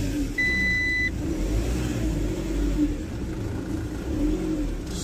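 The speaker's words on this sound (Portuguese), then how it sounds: "eu venho tirar os caminhões do estacionamento, né?" Company truck engine running as it is driven out of a parking lot, a steady mid-range rumble with mild swells in throttle, fairly close, with a brief high beep early on.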